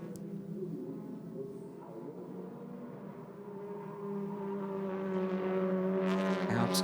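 TCR touring race cars lapping at Hockenheimring during a TCR Germany race make a distant, steady engine drone that swells louder toward the end as cars approach, with faint background noise underneath.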